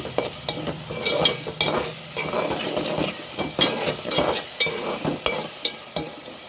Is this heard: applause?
no